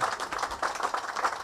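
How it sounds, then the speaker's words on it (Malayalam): Audience applause at a Christmas Eve church parish event, steady dense clapping throughout, moderately loud and continuous with no voices over it. "ഞങ്ങൾ നിങ്ങൾക്ക് എല്ലാവർക്കും വേണ്ടി ഞങ്ങളൊരു കൈയടി നൽകുകയാണ്."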